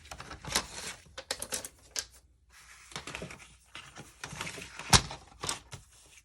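Paper pieces are cut down by hand for a mini album cover, giving sharp, irregular snips and clacks with short pauses between them and one louder snap near the end.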